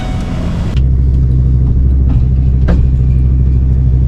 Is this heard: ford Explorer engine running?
yes